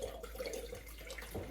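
Water from soaked beans poured off into a plain OXO strainer, a soft, steady splashing trickle under a low background hum, with no voices.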